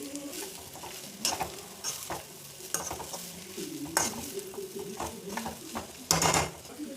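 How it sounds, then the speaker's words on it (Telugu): Pre-fried potatoes being stir-fried with rice for aloo fried rice, with steady sizzling and repeated scraping and clanking of a spatula against the pan, close up and without speech. "ఇప్పుడు ముందుగా వేయించి పెట్టుకున్న ఆలు ఫ్రై చేసుకుందాం"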